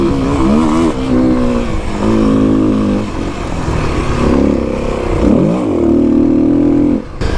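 A 2021 Kawasaki KLX300 dirt bike ripping through a berm off-road, its engine revving hard and close, the pitch climbing, dipping and surging again as the rider works the throttle through the turn.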